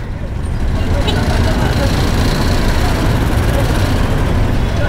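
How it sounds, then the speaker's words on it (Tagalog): Dense road traffic crawling bumper to bumper near Tutuban Center, a loud steady rumble of bus, car and truck engines filling the scene continuously, with voices talking over the din. "Traffic, boy! Bumper to bumper!"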